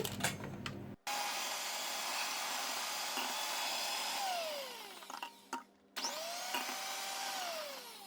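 An electric mixer beats eggs with a pinch of salt for a lemon mouskoutchou sponge cake, a loud steady whirring whine that cuts out briefly twice and restarts, with the beaters sweeping around the bowl.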